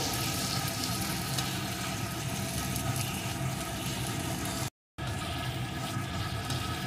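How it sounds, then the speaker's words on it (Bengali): Ginger fries alongside shrimp in a pan: a continuous, even sizzle with a low steady hum beneath it, moderately quiet, broken by a brief dropout near the end, with no voices. "চিংড়ি মাছের সাথে আদাটাও একটু ভেজে নিয়েছি"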